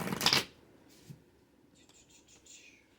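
A deck of cards is riffle-shuffled in one quick, close burst at the start, followed by near silence with faint rustling.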